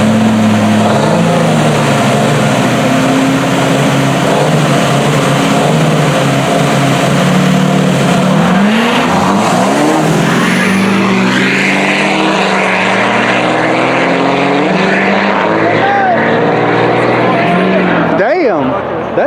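Duramax diesel pickup trucks launching in a drag race, engine pitch sweeping upward as they accelerate hard, then passing and fading, with people talking loudly over the noise.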